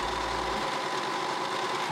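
A serger stitches a bodysuit seam with a steady, quiet mechanical hum and faint rapid whir, running continuously at moderate distance with no talking.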